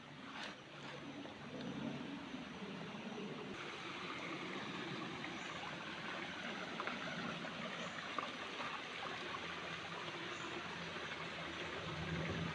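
Stream water flowing steadily through a forest brook shortly after rain, a continuous broadband wash that stays even and moderately loud throughout with no talk.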